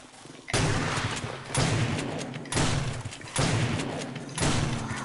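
Five heavy shotgun blasts in 7 Days to Die boom out about once a second at a construction site. Each is a loud, broad burst with a low thump that fades before the next shot.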